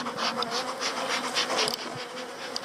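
Normandy-type honeybees fighting make a dense, steady buzzing drone that fills the whole stretch, loud and close, with a few sharper individual wing whines rising above the swarm.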